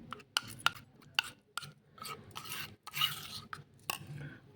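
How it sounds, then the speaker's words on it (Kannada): A homemade skincare paste being stirred and mixed smooth in a small bowl, giving a string of close, soft scraping and clicking strokes in an uneven rhythm, with no voices. "ಈ ರೀತಿ ಚೆನ್ನಾಗಿ ಮಿಕ್ಸ್ ಆದಮೇಲೆ ಗಂಟಿಲ್ದಿರೋ ಕಲಿಸ್ಕೊಳ್ಳಿ"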